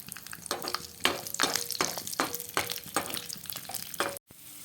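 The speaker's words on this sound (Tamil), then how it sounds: "ஒரு ஏழு எட்டு உலர்ந்த திராட்சையும் சேர்த்துக்கிறேன் சேர்த்துட்டு இதையும் நல்லா வறுத்துடலாம்" Cashews and raisins fry in a pan as a spoon stirs them in steady repeated strokes, each scrape riding over a constant close sizzle, with a brief cutoff near the end.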